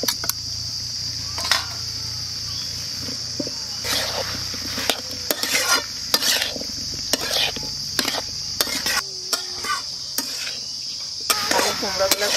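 Potatoes are added and stirred in a pan for a rural potato and pumpkin curry, with scattered clattering stirs and a light sizzle over a constant high insect chirr outdoors.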